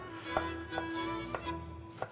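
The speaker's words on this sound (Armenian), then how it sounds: "Մի քիչ խոշոր կարող ենք կտրատել։" A knife chops fresh parsley and other greens coarsely on a board, with four separate, unhurried thuds heard close up over a steady background hum.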